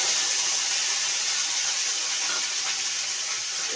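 Ground spice paste for a Bengali lote (Bombay duck) fish curry sizzles steadily in hot oil, a continuous loud hiss with no pauses and no voices.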